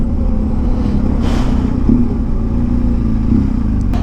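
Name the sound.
Enzo's motorcycle arriving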